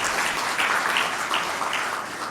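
Dense, steady applause from a large audience at a corporate sustainability report launch and anniversary celebration, many hands clapping at once in an even, sustained wash with no pauses.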